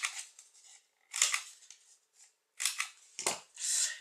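A pair of scissors snips through background paper for a craft card, several quick crisp cuts in irregular bursts with quiet gaps between, close and fairly faint.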